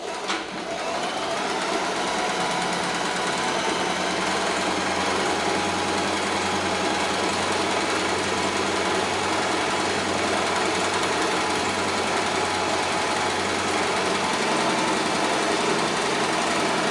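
A sewing machine runs continuously at high speed, stitching fabric with a loud, steady whirring drone close up for the whole stretch, with no pauses.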